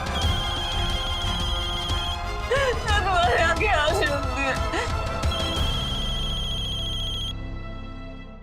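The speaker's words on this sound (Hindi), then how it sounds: "ये मेरा फोन है, मेरा फोन, मेरी माँ का फोन है।" A mobile phone ringing with a call from a mother, its electronic ringtone playing steadily throughout, partly buried under agitated talk from people nearby and a musical score, fading toward the end.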